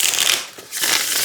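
An oracle card deck of 50 cards being shuffled by hand, giving a close, crisp riffling flutter in two bursts separated by a brief pause.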